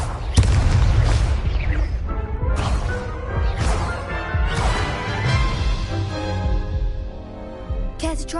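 In the video game Hogwarts Legacy on PS5, a Confringo spell sets off several sharp blasts and crashes with booming low rumble. Bursts and crackling debris follow one another through the clip.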